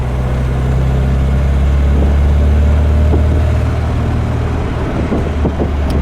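A 1968 MG MGB sports car engine pulls along on the road, a steady, loud, low droning hum that holds evenly throughout with a few faint knocks near the end and no talking.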